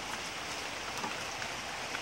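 Steady rain falls on a rural smallholding through a wet afternoon, a broad even hiss with scattered drop patter, continuous and moderately loud with no voices.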